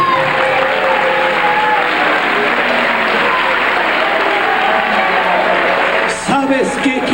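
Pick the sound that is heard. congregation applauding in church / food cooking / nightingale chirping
congregation applauding in church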